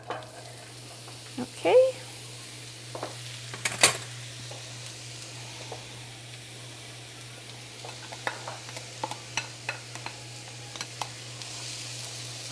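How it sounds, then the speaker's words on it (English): Chopped onion sautéing in a pan with only a little oil, a soft sizzle under a steady low hum, broken by scattered spatula clicks and a few pan knocks, with one brief spoken word. "I'm not gonna put a lot of oil, just a little drop to start sauteing the onion"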